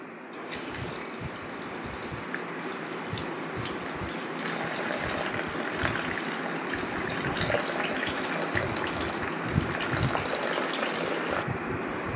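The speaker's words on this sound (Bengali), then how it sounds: "জলে ধুয়ে একটু জলে ভিজিয়ে রাখলাম" Cut mango strips are rinsed and soaked in a kitchen under a steady, fairly close gush of running water, with light rattling throughout.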